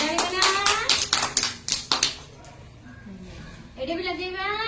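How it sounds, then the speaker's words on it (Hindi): Children clap their hands during a shapes activity, a run of about eight sharp claps in an uneven rhythm under an adult's voice, after which the talking carries on alone. "वेरी गुड ताली बना"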